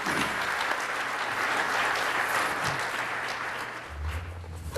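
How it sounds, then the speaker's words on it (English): An audience at an opening session gives the host company a round of applause, a steady wash of many hands clapping, fairly distant and soft, sustained evenly with a low rumble near the end. "everyone please give Alcatel-Lucent a round of applause for having us here"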